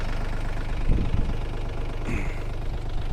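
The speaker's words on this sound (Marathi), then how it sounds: "आपलं ट्रॅक्टर आहे महिंद्रा ओजा तीस एस पीचा ट्रॅक्टर आहे" A Mahindra Oja 30 hp tractor engine runs steadily during soybean field weeding, a low continuous rumble heard close up with a couple of brief thumps and no talk.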